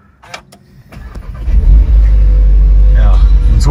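An Audi SQ engine starts and revs up into a loud, sustained deep rumble that holds steady for several seconds after a brief lead-in of clicks and light noise.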